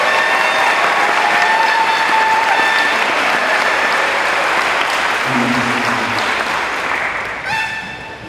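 Sustained applause from a large crowd at a high school graduation ceremony, loud and steady throughout before easing slightly near the end.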